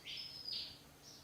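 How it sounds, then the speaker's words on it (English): A grey thrush sings outside in a brief, clear phrase of two high whistled notes, a short pause, then a softer third note, close and fairly loud against a quiet background. "Now I've got the grey thrush outside. He is beautiful. Oh, listen to him."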